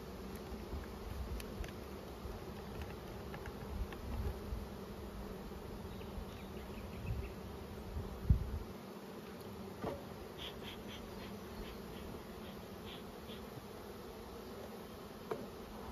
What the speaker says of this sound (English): shake some nurse bees in there.